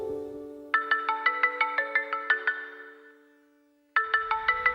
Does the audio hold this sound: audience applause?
no